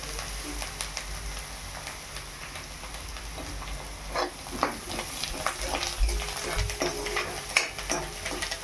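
Onions frying in a pan for murmura poha, a quiet steady sizzle broken by occasional stirring clicks and scrapes of the spoon, close but soft, with no voices.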